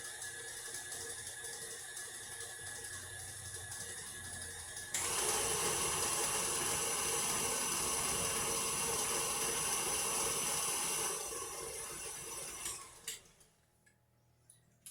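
A stand mixer churns cream cheese Danish dough with a steady mechanical whir, stepping up louder at about five seconds as the speed rises, then dropping back and cutting off near the end.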